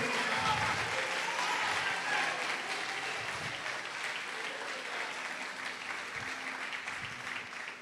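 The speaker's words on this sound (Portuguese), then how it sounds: "pode aplaudir e glorificar o Senhor." A church congregation claps steadily, sustained applause that fills the room and slowly thins toward the end.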